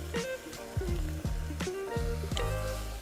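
Beef shank and Korean ingredients are added with curry powder to a hot soup curry pot. They sizzle and fry steadily, with several clinks and scrapes of a utensil against the pot over the bubbling.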